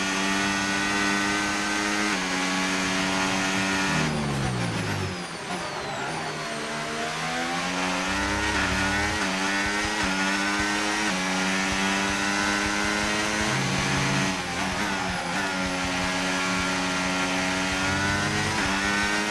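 F1 race car engines in the F1 25 racing video game, high-pitched screaming engines rising and falling through gear shifts, loud and continuous with several cars overlapping, no talking.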